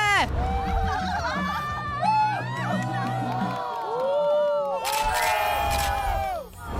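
A crowd cheers and whoops loudly throughout a reality-show catwalk segment, with excited shouts and rising cries layered over one another, briefly swelling near the end.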